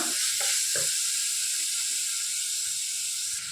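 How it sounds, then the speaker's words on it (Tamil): Vegetables sautéing in oil over a low flame for a millet (varagu) vegetable biryani, a steady close sizzle and hiss with a few soft stirring scrapes early on, with no talking. "எண்ணெயில் சிம்மில் வச்சு ஒரு ரெண்டு நிமிஷம் நல்லா வதக்கி விட்டுடலாம்"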